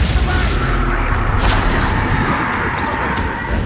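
Confringo blasting spell cast in Hogwarts Legacy, heard as a dense, continuous roar of booming blasts that stays loud from start to finish.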